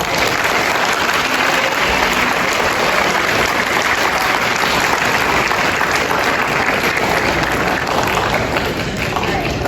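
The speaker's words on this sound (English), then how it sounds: "let's give a round of applause for Al." Loud, dense applause fills an eighth grade awards celebration, a continuous roar of many hands clapping at even strength from start to finish.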